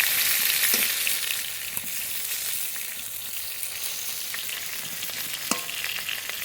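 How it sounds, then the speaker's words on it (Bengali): Constant hiss of pointed gourd frying in hot oil, close up, with a few sharp knocks of a spatula stirring against the pan. "পটলগুলো নেড়ে নেড়ে খুব ভালো করে ভেজে নিয়েছি"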